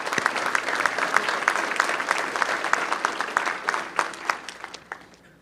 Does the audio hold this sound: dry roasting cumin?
no